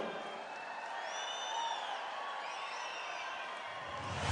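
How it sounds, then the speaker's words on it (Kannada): An audience at a stage event applauds in a steady, fairly distant wash of clapping and crowd noise that swells slightly toward the end. "ಒಂದು ಜೋರಾದ ಚಪ್ಪಾಳೆ."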